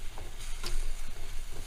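Chicken Philly cheesesteak cooking in a Pathfinder skillet: a steady, fairly loud sizzle and crackle of frying meat with a faint scrape or two, continuous and without speech.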